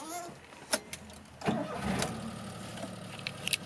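A 1992 Daihatsu Atrai turbo van engine cranks briefly and catches, then settles into a steady low rumble with a few clicks and knocks.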